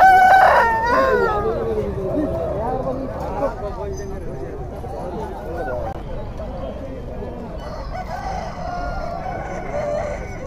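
At a native country-chicken market in Nallapadu, a rooster crows loudly near the start, then fainter calls and clucks follow amid ongoing talk and market chatter.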